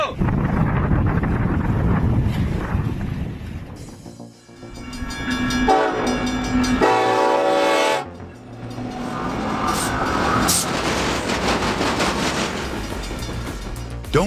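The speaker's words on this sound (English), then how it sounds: "the train carrying tanks and heavy military vehicles is headed as it passes through Marfa, Texas" Freight train hauling tanks and heavy military vehicles through Marfa, Texas, passing close and loud with a steady rumble of rolling cars and a sounding horn, the noise dipping briefly midway before building again.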